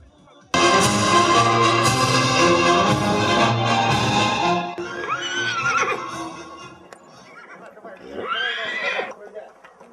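A horse being schooled to a set pace during equestrian training whinnies loudly and at length over music, then gives two shorter neighs alone in the middle and later.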